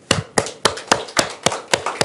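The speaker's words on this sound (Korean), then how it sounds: "올 한 해 정말 애쓰신 우리 열린가족 여러분들에게 박수를 보냅니다" Clapping in a church congregation at the close of a thanksgiving sermon: about eight sharp, evenly spaced claps in a steady beat, close and clear, with no talking.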